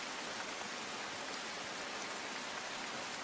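Heavy monsoon rain in Surat pours down in a dense, steady hiss with no break, with no voices heard over it.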